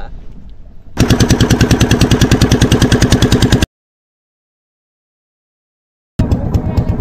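Loud, close motor boat engine on a river chugging in a fast, steady pulsing rhythm, cutting out abruptly into silence for a few seconds before the engine sound returns.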